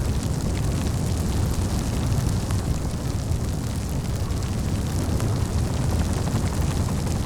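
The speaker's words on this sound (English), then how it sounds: "People just start setting off fireworks." Fireworks going off in a city in the video game Cities: Skylines 2 on the 5th of November make a steady, dense roar of rumbling blasts and crackle that holds at a constant loud level, with no voices.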